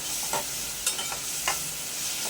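Ginger garlic paste frying with chopped onions in oil, a continuous sizzle broken by a few short spoon scrapes and clinks against the pan.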